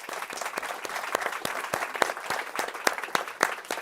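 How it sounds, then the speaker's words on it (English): The audience at an AI summit panel session gives the speakers a round of applause: sustained crowd clapping with distinct sharp claps standing out, moderately loud and steady throughout. "Let's give them a round of applause."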